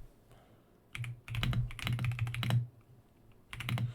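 Rapid bursts of typing on a computer keyboard, its battery nearly flat, while working in PowerShell. The keys clatter close and clear in uneven clusters, with short quiet gaps and no talking.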